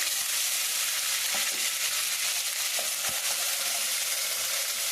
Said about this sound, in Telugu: అల్లం వెల్లిపాయలు చక్క లవంగాలు యాలక్కాయలు అన్నీ కలిపి పేస్ట్ వేసి వేయించున్నానండి